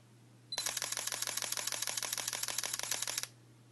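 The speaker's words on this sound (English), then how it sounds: "If you want faster, you can do a burst of 7 frames per second." A Sony NEX-5 camera fires its shutter in a rapid burst of about 7 frames per second, giving a steady run of close, crisp mechanical clicks that lasts nearly three seconds and then stops.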